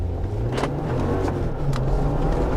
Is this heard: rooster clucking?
no